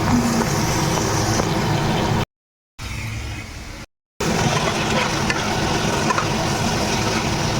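Ginger, garlic, onion and tomato masala frying in hot oil gives a steady, dense sizzle that drops out twice briefly, then carries on loud and close.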